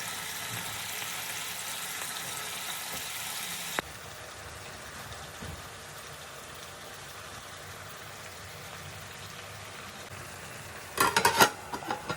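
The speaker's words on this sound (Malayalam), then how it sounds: "നമ്മളൊരു പാൻ എടുത്തിട്ട് അതിലേക്ക് വെളിച്ചെണ്ണ ഒഴിച്ച് കൊടുക്കാം എന്നിട്ട് നമ്മൾ ചിക്കൻ ഇട്ടിട്ട് വറുത്തെടുക്കാം" Chicken fries in coconut oil in a pan, a soft continuous sizzle that is louder for the first few seconds, then settles lower and steady, ending with a brief cluster of metallic clinks from the pan.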